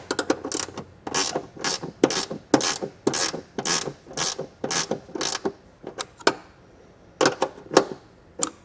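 A ratchet with a 13 mm socket turns a nut off a vehicle while a wiring kit is installed. Rapid clicking bursts run in an uneven rhythm, close and fairly loud, with a brief pause before the last few strokes.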